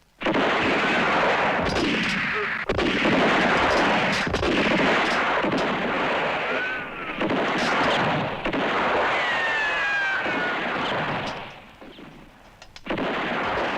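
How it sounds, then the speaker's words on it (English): Spaghetti western shootout, dense and loud, with rapid overlapping gunshots and sharp cracks across the whole stretch, a brief lull near the end, then firing resumes, and no speech. "Let's shoot it out all together."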